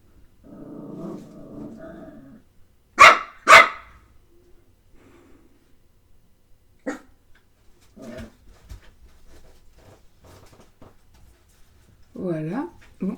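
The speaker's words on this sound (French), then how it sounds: "Teddy, t'aboies tout le temps, quand tu ne dois pas" A dog barks indoors, two quick sharp barks in the middle, among quiet speech and small handling noises.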